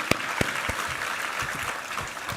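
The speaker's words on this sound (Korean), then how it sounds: "우리 하나님께 감사와 영광의 박수 올려드리겠습니다." A church congregation at a Sunday worship service breaks into sustained applause, a dense wash of clapping with a few sharper individual claps standing out near the start.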